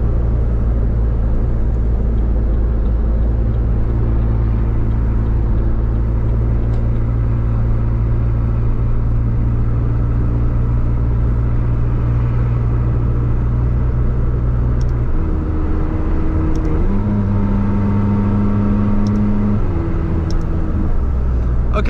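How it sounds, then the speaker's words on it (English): A McLaren 600LT supercar engine droning loudly and steadily from inside the cabin while driving, a deep constant rumble that shifts pitch upward in a few steps near the end as it accelerates through gears. "This was the POV drive of this McLaren 600LT"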